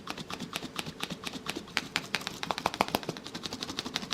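A Miniverse Valentines fondue set blind box is shaken, giving a fast, steady rattle of small pieces knocking inside, with dull thuds, fairly close and without talk.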